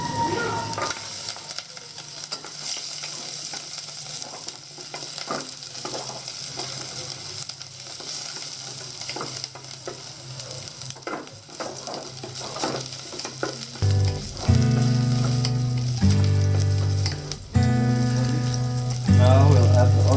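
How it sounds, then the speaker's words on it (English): Garlic sizzles and crackles steadily in a hot pan for Filipino chicken liver adobo, a dense close frying hiss with occasional stirring; after about fourteen seconds loud music with sustained tones comes in over the frying. "Now we're going to put the garlic."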